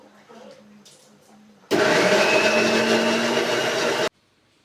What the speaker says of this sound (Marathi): लसूण अद्रक आणि दोन हिरव्या मिरच्या याची मी आता इथे मिक्सरमध्ये पेस्ट बनवून घेणार आहे